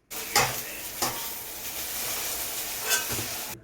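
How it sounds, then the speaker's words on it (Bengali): Chop fritters fry in hot oil with a steady, fairly loud sizzle, broken by a few brief stirring bursts. "এই দেখুন চপ ভাজা একদম রেডি হয়ে গেছে"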